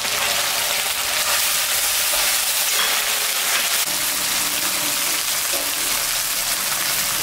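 Fish head pieces fry in spices with ginger, cumin, dried chilli and coriander in a pan, giving a constant loud, dense sizzle close by with faint stirring scrapes and no talk.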